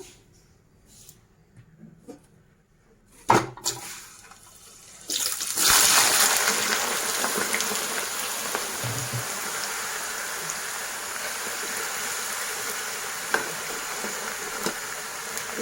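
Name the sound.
potato slices deep frying in hot oil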